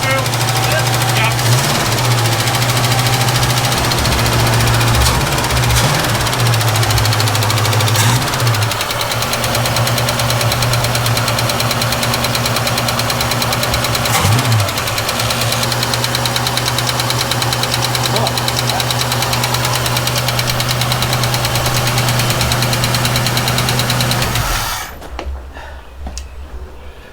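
A 1967 Ford Mustang engine runs steadily with its valve cover off, a close, continuous idle carrying a faint repetitive ticking, before the sound drops away near the end.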